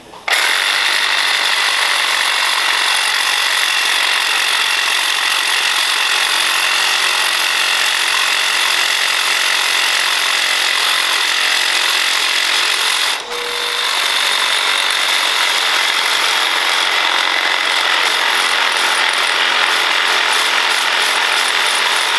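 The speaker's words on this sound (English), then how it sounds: "The new blade does the job." Power tool fitted with a new blade cutting steadily and continuously, a loud, bright grinding rasp with one brief interruption partway through, close by with no talk.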